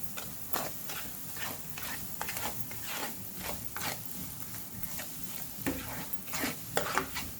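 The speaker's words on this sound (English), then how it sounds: "And just keep stirring, because I want it to caramelize before I actually add my pork chops." Sugar being stirred in a hot pan as it caramelizes for pork chops, with a steady low sizzle and repeated scraping strokes of the utensil at an even rhythm, close and moderately quiet, no talking.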